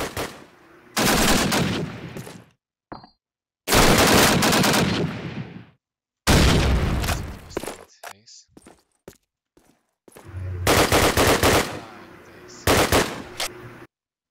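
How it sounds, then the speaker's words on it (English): Bursts of automatic gunfire exchanged in a Call of Duty match, loud rapid rattling volleys separated by short silences, with a few isolated single shots and clicks between them. "Some exchanges of shots"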